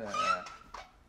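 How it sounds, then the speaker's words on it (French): A dog whimpers and cries in a short, high, wavering whine followed by a couple of fainter yelps, close by. "C'est mon chien qui crie."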